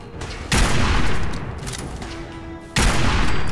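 Loud gunfire from a weapon in the video game Fallout 4, two heavy sustained bursts of shots separated by a quieter stretch, close and dominant.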